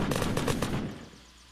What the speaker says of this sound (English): there are now fragmentation magazines. And these pretty much are explosive ammo.